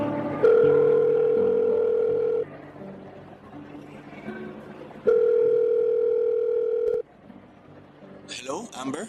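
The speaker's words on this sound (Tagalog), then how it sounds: "Inilabas ko ang cellphone ko saka ko tinawagan si Jude" Outgoing cellphone call ringback tone: two long steady beeps separated by a pause, fairly loud and clear over a quiet background, with a brief voice starting at the end.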